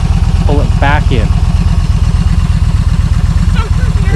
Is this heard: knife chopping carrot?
no